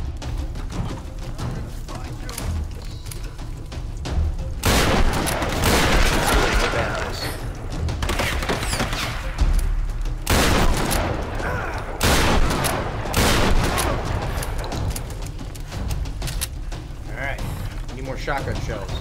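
Repeated heavy gunfire from a shotgun in the Tomb Raider video game, loud booming blasts in bursts mixed with other combat noise and a talking voice throughout.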